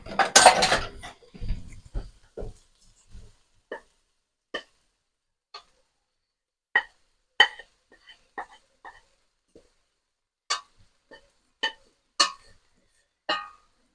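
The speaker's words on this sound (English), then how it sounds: "Alright, give it a stir. Get all our veggies in there. Get our broccoli through." Couscous with broccoli and other vegetables stirred in a pot, an opening clatter of cookware followed by sparse, close spoon clinks and taps against the pot in a quiet room.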